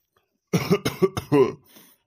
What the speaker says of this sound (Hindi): अरे पापा ई का भा तुरंत खांसी होती है